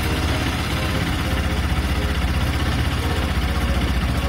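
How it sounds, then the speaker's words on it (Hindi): A Bajaj Pulsar RS200 motorcycle engine idles in neutral just after starting, a steady close, low, even rumble with no talk. "फिर आप बाइक ऑन करो, न्यूट्रल में रखो and then start your bike"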